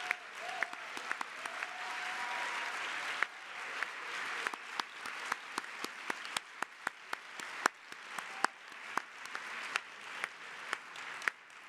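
Conference audience at an arts plenary applauds standing council members and state captains, a continuous crowd clapping with individual sharp claps popping out close by, sustained for over ten seconds without speech.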